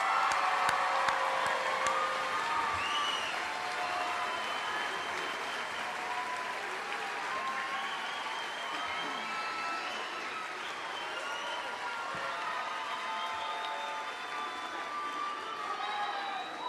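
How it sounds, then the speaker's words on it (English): Audience at a girls' school graduation ceremony applauds the standing graduates, a long, even roar of clapping with cheers and scattered whoops running steadily for over fifteen seconds. "let's give them a round of applause for that."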